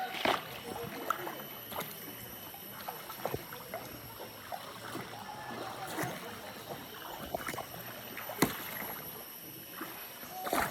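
Oars paddling a rowboat on open water, soft rhythmic dips and gurgles with scattered splashes and light knocks of wood against the hull, fairly quiet and continuous, with faint voices in the background.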